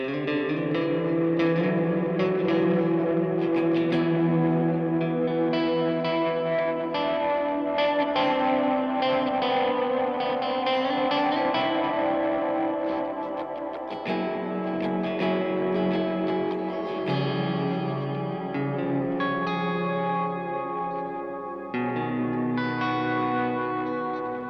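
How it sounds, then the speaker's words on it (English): Electric guitar played through a Strymon Flint pedal set to high mix and high decay reverb, notes washing into a long, dense, continuous tail that sustains underneath the playing throughout, with no talking. "you still want like a high mix, high decay reverb"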